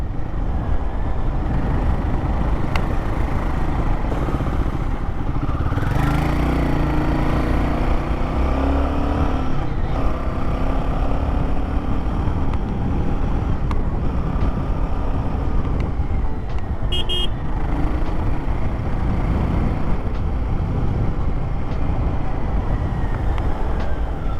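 A Royal Enfield Guerrilla 450 motorcycle rides along a road with a continuous close engine drone and wind rush, rising and easing slightly in pitch as it accelerates, with no clear talking.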